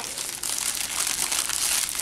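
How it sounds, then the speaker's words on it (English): Cardboard toy packaging is ripped and crinkled in a hotel room, a dry papery tearing and crumpling that runs continuously at close range with no talking. "Allyson, you've got to rip this cardboard."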